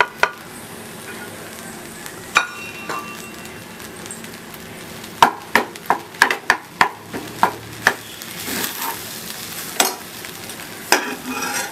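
Scrambled egg tossed and stirred in a hot pan for a lunch box dish, a soft sizzle broken by a run of sharp spatula scrapes and taps against the pan, close and clear, no talking.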